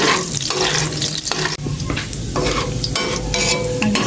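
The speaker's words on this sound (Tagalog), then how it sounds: "Gisa-gisa ko na po maigi yung bawang." Garlic sautéing in a hot pan while being stirred, a steady close sizzle with frequent scraping stir strokes running through without pause.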